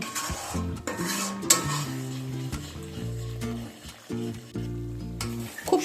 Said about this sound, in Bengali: আরও কিছুক্ষণ সময় নিয়ে একটু কষিয়ে নেব।